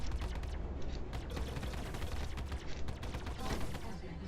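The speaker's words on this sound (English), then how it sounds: "So it looks like you can't just kind of spam fire the rockets either." Mustang Delta ship firing rockets in the Star Citizen space combat game, a dense, steady barrage of rapid blasts and booms under constant rumble, loud and close throughout.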